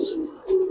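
A black-bellied female pigeon of Pakistani stock gives a soft, low, brief coo, close by, in two short murmuring phrases.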